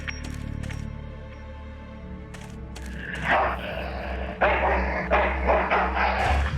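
Dog barking in the video game Full Throttle Remastered, several sharp barks in the first few seconds followed by louder growling, scuffling game noise with music underneath.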